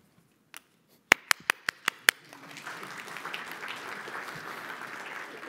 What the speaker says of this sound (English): Well, that's applause for those